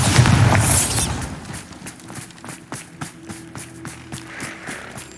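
The Bombarda explosion spell in Hogwarts Legacy goes off as a single loud burst at the very start, then gives way to a quieter stretch of running footsteps and faint thuds.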